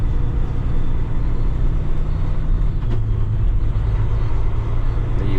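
A 2025 Kenworth T880 truck engine drones loudly and steadily in the cab, and its low rumble drops in pitch partway through as it shifts gears, then carries on at a new pitch.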